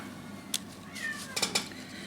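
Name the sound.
cat howling in the background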